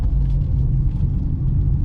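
Steady low engine drone and road rumble fill the cabin of a CNG car while driving, a constant heavy hum close around the listener with no talking.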